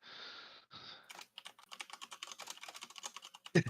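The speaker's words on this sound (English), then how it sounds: "Gray, are you typing furiously" Computer keyboard typing during an online tabletop role-playing session, a rapid, close run of clicky keystrokes following a brief soft tone at the start.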